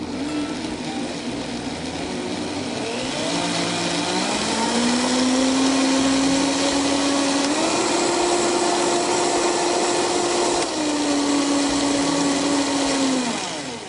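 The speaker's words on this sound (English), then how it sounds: "When the carrots are soft, I put it in a blender here." Blender pureeing softened carrots in orange juice, a loud motor whine that ramps up, holds with slight pitch shifts as the contents churn, then winds down near the end, close and alone.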